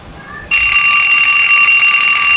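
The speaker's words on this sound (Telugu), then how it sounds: "అప్పుడే అలారం వస్తుందేంటి?" An alarm clock starts ringing abruptly after half a second of quiet, a loud, steady, piercing electronic tone that continues unbroken to the end, alone with no talk.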